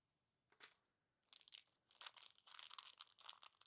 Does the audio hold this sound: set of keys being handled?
yes